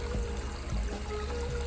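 A larger pond pump pushes water into a backyard pond waterfall, giving a steady, fairly close pouring rush that runs continuously with no talk over it.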